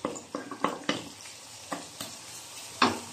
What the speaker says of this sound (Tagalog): Medyo ating papupulahin ng kaunti ang ating bawang sibuyas.